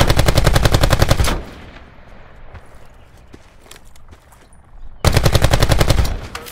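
Rapid automatic gunfire in the Call of Duty Blackout video game, two loud sustained bursts at the start and end separated by a quieter stretch of background game noise.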